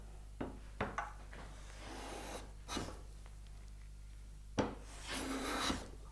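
A hand plane takes shavings off the high side of a wooden board as it is trued with winding sticks, giving a few short close rasping strokes between quiet pauses, the last stroke longer.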